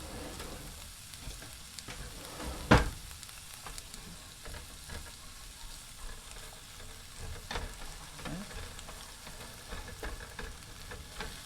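Vegetables sizzling in a pan over medium-high heat, a steady close crackle with occasional scrapes and one sharp clank early on.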